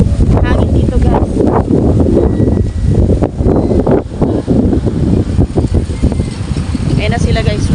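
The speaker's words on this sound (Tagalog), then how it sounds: "Hangin dito guys." Strong wind buffets the microphone at a beach, a loud roaring rumble with gusty surges, while a voice talks over it at times.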